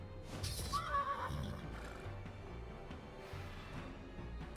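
A horse in the video game Wartales gives a short, clear whinny near the start, followed by quieter ambient game sound and faint hoof movement.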